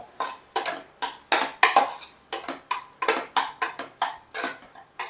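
Metal spoon scraping and clinking in a pot as a handful of coriander leaves is stirred into mutton biryani masala, a steady rhythm of about twenty close, bright strokes with no talking.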